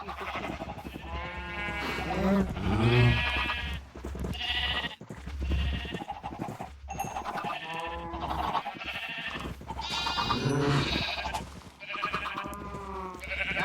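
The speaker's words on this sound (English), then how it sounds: "Now I have to feed the sheep." Sheep bleat repeatedly in a survival video game, several loud, close wavering calls in a row with brief gaps between them.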